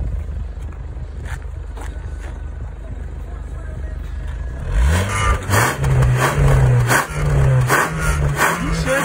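A car fitted with an aftermarket double exhaust revs hard, loud rising and falling engine surges up close after a quieter idling stretch, with people talking around it.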